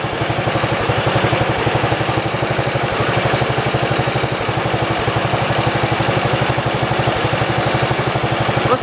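Engine of a 1973 112 idling after carburetor work, running near and loud with a steady rhythmic low chug that holds even throughout, no talking.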